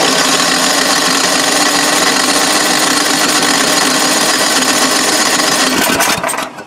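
A snowblower's small engine, just refueled and primed, roars loudly and continuously for several seconds before cutting out abruptly at the end; no one speaks.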